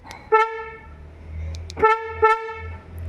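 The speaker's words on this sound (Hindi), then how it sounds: "हुंडई की नियोस मॉडल और i20 वगैरह में सिंगल हॉर्न आता है" A Hyundai i10 Nios single horn sounds three times: one longer honk, then two shorter honks close together, loud and near over a low idling hum.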